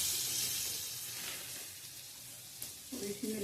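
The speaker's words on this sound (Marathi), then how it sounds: "त्यासाठी आपण पाव बटर मध्ये गरम करून घेऊया।" Pav bread heating in butter on a griddle for street-style paneer ghotala, giving a steady soft sizzle that fades slightly, with a few light utensil taps near the end.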